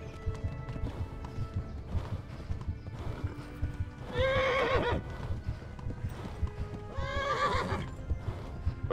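A horse in the medieval video game Kingdom Come: Deliverance gallops with a steady, continuous clip-clop of hooves. It gives two loud, shaky neighs partway through, all without talk.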